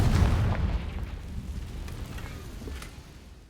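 Confringo explosion spell in Hogwarts Legacy, a loud booming burst that fades into a rumbling tail over a few seconds, alone without talk.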